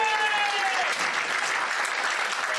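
Room full of people at an evening show applauding, a dense steady wash of clapping that stays loud throughout, with a brief tone fading at the start.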